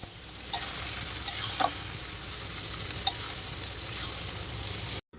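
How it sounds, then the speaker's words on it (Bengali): Boiled frozen chickpeas go into a sizzling, mashed tomato mixture in a pan, making a continuous low sizzle with a few light clinks and taps of a spoon, quiet and without talking, ending abruptly. "এখন দিয়ে দিচ্ছি সিদ্ধ করে রাখা ফ্রোজেন বুট"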